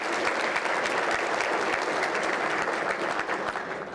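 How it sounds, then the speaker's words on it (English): An audience at a civic State of the City address in Torrance, California claps in a sustained, dense round of applause, close and loud throughout, tapering slightly at the end. "let's give them a round of applause for just being here today"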